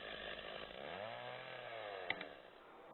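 A Stihl 066 chainsaw with a motor of just under 7 horsepower runs steadily and fairly close, its engine note sweeping up and then easing back down, with a sharp click near the end.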